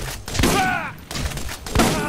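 Bursts of gunfire from a gun in the game Borderlands, a few loud shots in clusters at the start, middle and end, with brief gaps between volleys.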